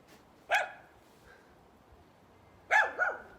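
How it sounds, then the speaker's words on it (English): Dog barking in two bursts, a single bark early and a double bark near the end, close and loud with quiet between. "That's my dog just losing her mind."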